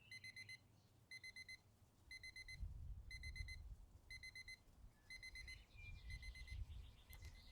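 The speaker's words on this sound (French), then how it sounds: "Le réveil stridule." An alarm clock rings in short bursts of bright, shrill beeping pulses, repeating about seven times at a steady rhythm over a faint low rumbling background.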